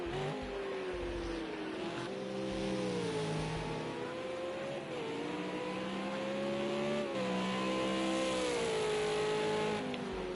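V8 race cars circle a track in a racing video game, each engine note rising and falling as the cars accelerate and shift. The drone is steady, mid-distance and unbroken, with no talk.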